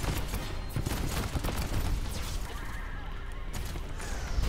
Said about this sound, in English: He called in his damn airstrike.